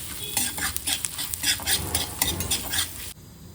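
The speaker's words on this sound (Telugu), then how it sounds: "ఇప్పుడు ఇవి బాగా ఎర్రగా వచ్చేదాకా పోపు వేయించుకోవాలి" A tempering of chana dal, fenugreek seeds and dried red chillies sizzles in hot oil as a spoon stirs it in quick rhythmic scrapes, the crackling frying loud and close before stopping abruptly near the end.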